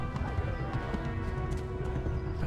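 Horse hooves clip-clopping in the video game Kingdom Come: Deliverance, a dense run of hoof beats under a constant loud game soundscape with music and ambience.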